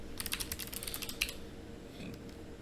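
Rapid clattering keystrokes on a computer keyboard, a quick burst of close taps for about a second before trailing off into a quiet room.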